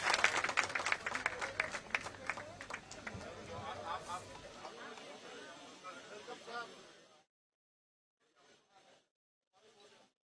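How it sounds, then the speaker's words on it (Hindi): Crowd at an outdoor Congress farmers' victory rally in Jaipur claps loudly in dense, crackling applause that thins out and fades to silence, followed by a few faint voices. "अजय माकन साहब का जोर से तालियां बजाकर स्वागत करें।"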